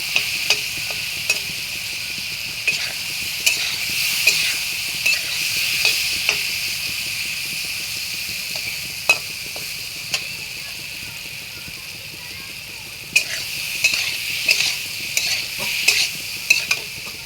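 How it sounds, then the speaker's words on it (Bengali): Food being stirred in a frying pan over a steady sizzle, with repeated light scrapes and clicks of the utensil throughout. "পাঁচ মিনিট নাড়াচাড়া করে নিচ্ছি আমি"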